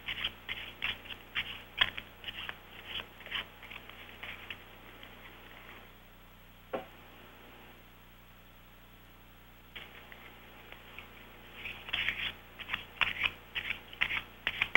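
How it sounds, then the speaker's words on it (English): Playing cards are shuffled by hand in bursts of soft riffling and patter, pausing briefly in the middle before resuming, close and fairly quiet over a faint steady hum. "Okay, I'm shuffling, and I assume you are."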